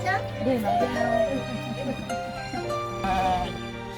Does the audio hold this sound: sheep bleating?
yes